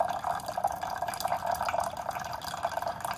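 A Walmart Mainstays single-serve dual brew coffee maker trickles hot water, a steady fine splashing and dripping stream heard close and fairly quiet, running continuously.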